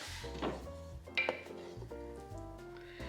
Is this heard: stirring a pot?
yes